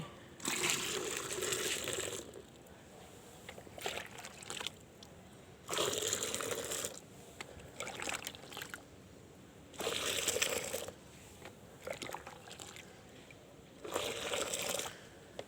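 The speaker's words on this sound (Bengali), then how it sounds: "তা আরও 10 লিটার জল বালতি থেকে তুলে নিচ্ছি।" Water being scooped from a bucket for a rooftop cauliflower garden, in repeated splashing, sloshing bursts a few seconds apart, close and fairly quiet, with short pauses between each scoop.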